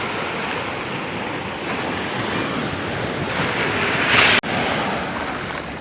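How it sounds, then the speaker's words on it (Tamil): Sea waves wash steadily onto a beach in Mangalore, Karnataka, a broad continuous surf roar with wind buffeting the microphone and a brief dropout near the end. "அந்த கடல் அலைகளோட நம்ம நடந்து போகிறது அந்த காலுக்கு ஒரு மசாஜ் மாதிரி நல்ல ஒரு அனுபவம்"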